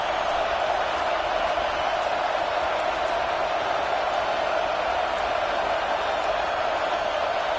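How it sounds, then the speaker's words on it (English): Dense, roaring stadium crowd at a football game, a steady loud wash of many voices that never lets up from start to finish, with no distinct speech standing out. "listen to this crowd noise. This stadium is vibrating"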